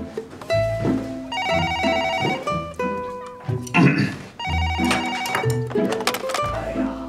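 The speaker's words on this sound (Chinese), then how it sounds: "接电话。 一定是奶奶的电话。" A telephone rings indoors during a Chinese New Year family gathering, its repeated electronic ring loud and steady across the clip, overlapped by music and lively voices talking.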